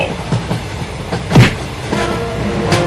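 A cartoon train rolling along its tracks, a loud steady rumble with faint rhythmic clatter and a brief swell partway through, alone without speech.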